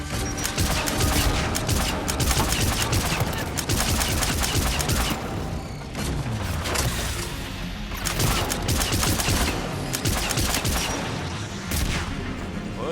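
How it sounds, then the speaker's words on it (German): Heavy cannon fire in the Mass Effect 3 video game, a dense, continuous barrage of loud blasts and impacts with brief lulls, filling the whole stretch of combat. "dann können wir gleich mal die Kanone ausprobieren."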